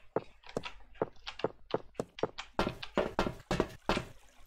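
Footsteps clank on a steel floor in the Minetest block game, a steady run of sharp, fairly close thuds that grow denser and heavier toward the end.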